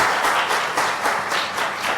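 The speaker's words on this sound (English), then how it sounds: "Now, a big applause for Robin, our friend Robin here." An audience at an event on global languages and careers applauds a person being introduced, giving a brief, close burst of lively clapping with a pulsing rhythm.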